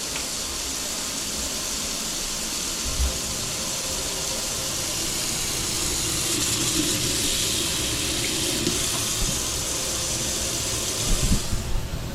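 Hot water gushes steadily from a tap with a constant hissing rush, close by, with a few faint knocks and clunks, from an Alpha Intec boiler after a diverter valve replacement.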